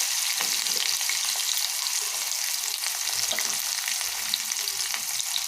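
Onion pieces fry in hot oil with popped mustard and cumin seeds, a steady, moderately faint sizzle with scattered crackles running throughout.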